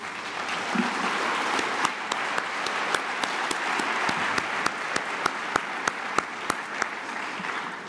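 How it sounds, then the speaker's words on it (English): An audience applauding after a film screening: a steady, dense wash of clapping sustained for eight seconds, with a few sharper individual claps standing out near the front at a regular pace. "Another round of applause for the film."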